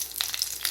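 Mustard seeds and curry leaves crackle briefly in hot oil, a short burst of light popping sizzle for a curd rice tempering.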